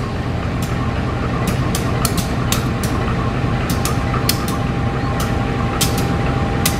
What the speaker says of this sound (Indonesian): Harus bersabar ini kereta api Kuta Jaya Selatan.